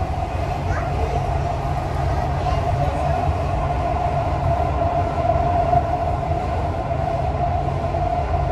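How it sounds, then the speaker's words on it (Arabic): A Dubai Metro train runs with a continuous rumbling hum and a steady tonal whine, heard from inside the car, with faint voices in the background. "The final destination of this train is Center Point."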